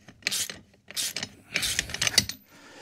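A ratchet tool tightens the tracks on an Alstor tracked vehicle in a few quick bursts of sharp clicking, close up and separated by short pauses.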